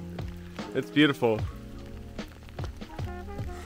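Rain falls steadily on the Appalachian Trail during a thru-hike, a soft continuous patter close by, while someone talks over it and clears his throat.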